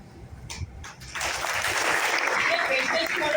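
Audience at a business plan meeting in Thane breaks into sustained clapping that starts suddenly and holds steady and loud, after a brief murmur of voices at the start.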